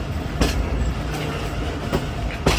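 The 202 Down Attock passenger train rumbles steadily as it approaches Jand Junction railway station on the ML-2 line, with a continuous low rolling drone and a few sharp clacks, close and without talk.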